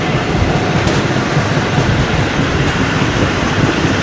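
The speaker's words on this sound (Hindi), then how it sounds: "वहाँ के करीबी रेलवे स्टेशन और क्या ही ज़बरदस्त मज़े का विसल" A Pakistan Railways train at Margalla Railway Station in Islamabad, rolling past close by with a loud, continuous rumble and the rhythmic clatter of wagons on the track, without voices.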